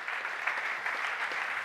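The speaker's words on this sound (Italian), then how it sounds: "Un applauso per lui." Steady applause from a crowd honouring a cyclist at a Giro d'Italia celebration in Brindisi, a dense even patter of clapping with no break for its whole length.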